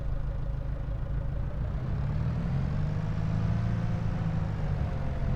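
A tractor engine with a front loader attached runs at a steady idle, a loud, constant low rumble with a faint whine drifting slightly in pitch, heard close and alone.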